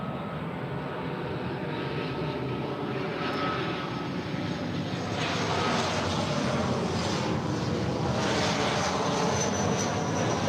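A Southwest Airlines jet roars steadily on its takeoff run from runway 24 left at LAX, a loud, continuous, broadband engine noise heard from near the airfield with no other sound over it.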